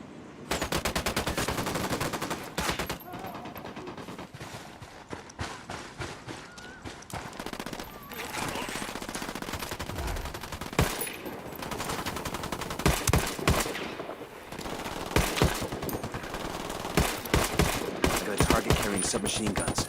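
Near-constant gunfire in the tactical shooter Ghost Recon Wildlands during a firefight with cartel enemies: rapid automatic bursts and single shots overlapping densely, loud and close throughout.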